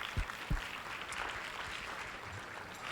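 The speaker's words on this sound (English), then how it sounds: "So let's give another round of applause." Faint, distant audience applause at an event, a soft steady wash of clapping with a couple of louder thumps near the start.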